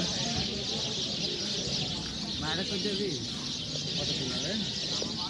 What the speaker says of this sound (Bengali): এখানে একটা গাছে এই এলাকার সব পাখিগুলো এসে বসে পড়ছে